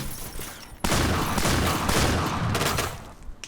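Gunfire from the Point Blank shooter game, a sudden loud burst of rapid shotgun-style shots lasting about two seconds before trailing off.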